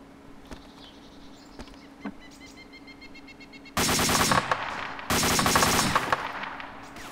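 Rapid automatic gunfire in the survival shooter DayZ: two loud sustained bursts of close shots after a stretch of faint, distant pops and a buzzing insect-like drone.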